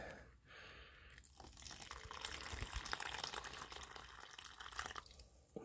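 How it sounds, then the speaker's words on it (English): Hot water is poured steadily into a ration pouch, a continuous splashing, gurgling fill lasting several seconds, close up. "there goes the water"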